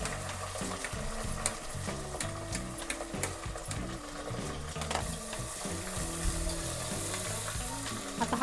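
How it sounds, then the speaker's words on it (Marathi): Onions frying until golden in a pressure cooker with green cardamom, bay leaf and cinnamon for chicken biryani, a quiet steady sizzle with rhythmic scraping stirs and occasional sharper clicks; nobody speaks. "आता हा कांदा सोनेरी रंग होईपर्यंत आपण परतून घेऊया"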